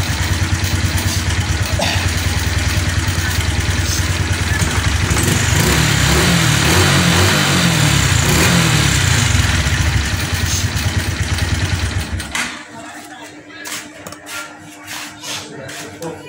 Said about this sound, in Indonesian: Seharusnya kan seperti ini, walaupun tanpa aki motor bisa menyala.